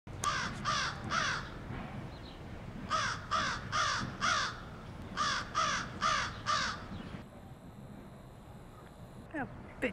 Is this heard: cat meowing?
no